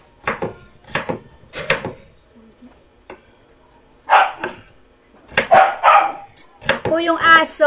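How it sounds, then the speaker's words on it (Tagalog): A pet dog named Snowy barks in sharp bursts indoors in a home kitchen, mixed with chopping sounds and clatter while adobo chicken is being made, loud and close with gaps between the barks. "Itong aso kong to talaga. Nakikiingay."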